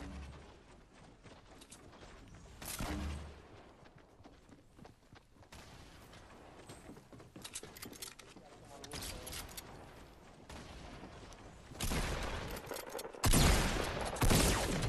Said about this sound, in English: Shoot that grenade launcher down in there